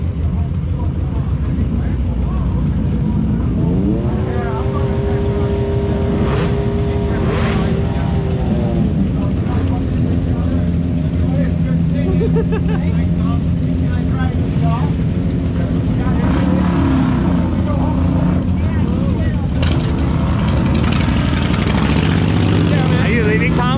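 A large group of motorcycles riding together on a group ride in Stockbridge, a dense continuous roar of engines with rising and falling revs and passing bikes, close and loud, with people talking over it.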